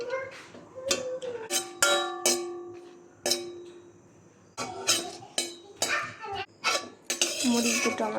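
A metal spoon clinks and scrapes against a pan in sharp, irregular bursts while two chilies are fried and stirred, with quiet gaps between the strokes.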